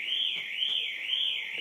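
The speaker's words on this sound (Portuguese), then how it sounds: "estamos com um problema aqui de alarme aqui" A nearby electronic alarm sounds as a steady, piercing high tone that warbles slowly up and down, continuous and fairly loud for the whole stretch.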